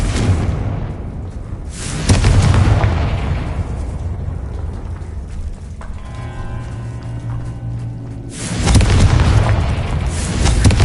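Booming explosions from the Confringo blasting spell in a wizard video game, two heavy bursts several seconds apart with a rumbling tail between them, loud and close.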